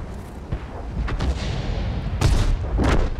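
Tank cannon fire in World of Tanks, with booming shots and rumbling blasts, loud and close, two heavier bursts near the end over a continuous low battle din.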